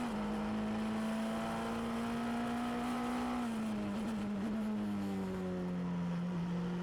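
A race car at speed on the Estoril circuit during a 2019 Ultimate Cup Series race, its engine holding a loud, steady whine that sags slightly in pitch midway, then settles, with no talk over it.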